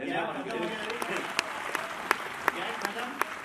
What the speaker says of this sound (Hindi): आगे तालियां यार, तालियां